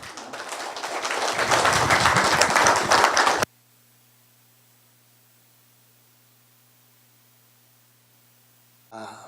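Dense, loud applause from a forum audience builds over a few seconds as a speaker is introduced, then cuts off abruptly into near silence with a faint hum.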